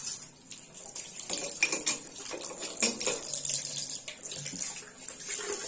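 Warm tap water runs into a sink while a face is rinsed, with soft continuous splashing and small irregular drips and splatters, close and quiet, no talking.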